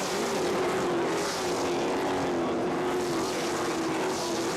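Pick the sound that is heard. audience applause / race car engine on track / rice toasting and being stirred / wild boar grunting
race car engine on track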